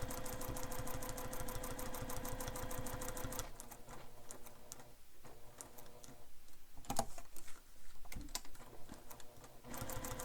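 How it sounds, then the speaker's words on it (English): A sewing machine stitching around a bag's zipper window, running steadily at first, then in slower, uneven stretches with clicks and pauses as the corners are turned, close by with no voices. "you can stitch the window all the way around"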